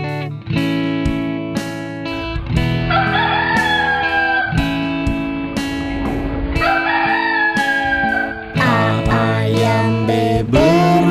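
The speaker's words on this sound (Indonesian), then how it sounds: "Ayam" A rooster crows repeatedly over a steady musical backing, with clucking chicken calls woven in, loud and close throughout as part of a children's animal song.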